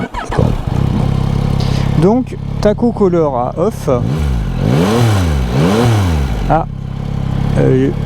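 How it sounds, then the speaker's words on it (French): A Yamaha Tracer 9 GT motorcycle engine revs up and down in rising and falling bursts, loud and close, with someone talking over it at the start. "démarrons le moteur"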